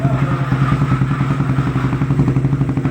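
Motorcycle fitted with an Apido Chix exhaust pipe revving on a road, a loud, close, throbbing engine with rapid pulsing firing and rattly clatter throughout, no speech.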